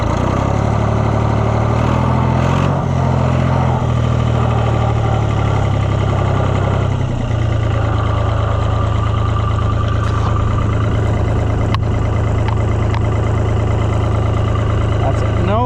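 A Cockshutt 1255 FWA tractor engine runs loud and close at a steady idle-like drone, with a rough low rumble and slight shift in pitch as the wheels spin.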